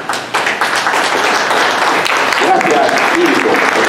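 A crowd at a literature event on the Amazon stands and applauds, a loud, full burst of many hands clapping that swells in quickly and holds steady, with a few voices calling out over it.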